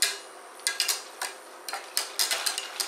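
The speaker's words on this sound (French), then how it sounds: "On va pouvoir ajouter le lait en mélangeant." Whisk or spoon clicking against a pan while milk is stirred into a roux, a series of light irregular taps and scrapes over a steady hiss, close by and without talk.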